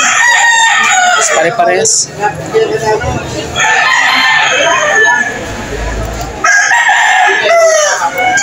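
Roosters crow repeatedly over busy clucking and general commotion at a chicken market in Lipa, Batangas, with a vendor's voice talking loudly throughout.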